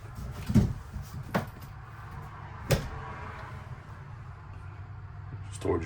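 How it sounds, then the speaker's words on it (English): An interior sliding door in a 37-foot Forest River Cedar Creek 311RL RV is opened and closed, giving a few sharp knocks and thuds spaced over several seconds against a quiet, low-humming room. "There's a sliding door."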